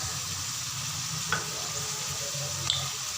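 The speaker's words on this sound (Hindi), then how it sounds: "अब इन सबको अच्छे से फ्राई करें और मिक्स कर लूँगी" Macaroni sauce mixture with soy sauce frying in a pan, a close, continuous sizzle with a couple of faint stirring scrapes and no talk.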